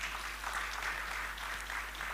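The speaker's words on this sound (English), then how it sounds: "Maybe we can give a round of applause." A small audience claps after a talk at a Rama Navami gathering, with soft, steady applause heard at moderate distance over a constant low electrical hum.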